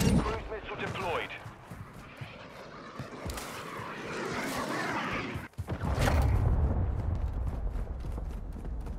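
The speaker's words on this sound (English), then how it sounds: "Friendly cruise missile deployed." A cruise missile strike lands in a Call of Duty: Modern Warfare II match as a heavy booming blast and rumbling impacts, mixed with gunfire and battle noise while in-game voices talk over it.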